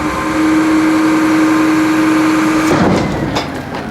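A garbage truck engine runs steadily and loudly during the packing cycle, then its tone shifts as the throttle advance engages, followed by mechanical clunks nearby.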